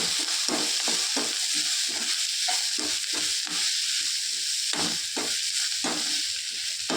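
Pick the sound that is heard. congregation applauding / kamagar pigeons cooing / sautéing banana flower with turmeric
sautéing banana flower with turmeric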